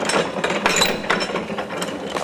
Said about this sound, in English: That's a little clutch mechanism. I can take it out of gears.